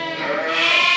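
A single sheep bleats loudly and close at hand during crutching and lamb marking, one sustained nasal bleat that holds steady and swells slightly toward the end.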